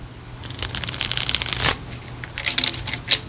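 Tarot cards being shuffled by hand during a love reading: a close, steady run of papery riffling and flicking, with a few sharper snaps near the end and no speech.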